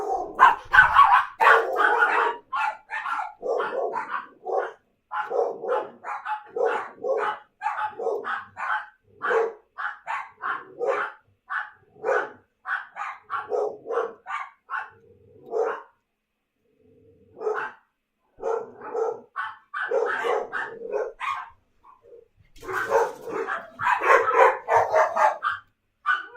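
A dog barks repeatedly across a long stretch in fast, regular volleys of short yaps, fairly close and moderately loud, with brief pauses between bursts and a denser flurry near the end.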